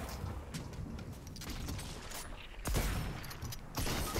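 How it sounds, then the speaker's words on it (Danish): Muffled bursts of weapon fire with heavy booming thumps and mechanical clatter, a Fortnite grenade launcher firing in separate loud blasts. "Den skyder granater"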